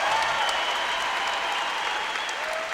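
Dense, sustained applause from a big crowd at a CrossFit Games regional event fills the arena, steady and fairly distant, with scattered cheers and a faint voice underneath.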